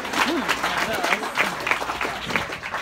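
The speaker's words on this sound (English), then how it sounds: "Clap if you're under 30." Comedy club audience claps in a scattered, uneven burst at moderate distance, steady for about three seconds, with crowd murmur and brief voices mixed underneath.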